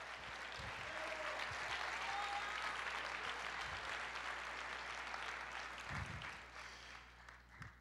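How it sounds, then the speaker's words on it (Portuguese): Church congregation applauding during a Portuguese-language sermon, a steady broad clatter of many hands filling the room, moderately distant, slowly fading toward the end with a few low thumps. "Aplauda o Senhor"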